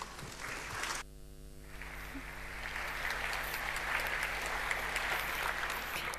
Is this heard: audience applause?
yes